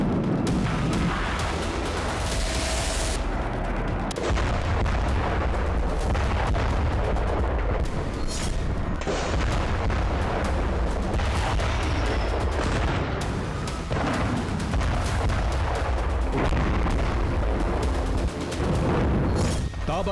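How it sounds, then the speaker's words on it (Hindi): Repeated heavy blasts and artillery fire boom one after another, with crackling gunfire between them, loud and continuous throughout. "ताबड़तोड़ धमाके,"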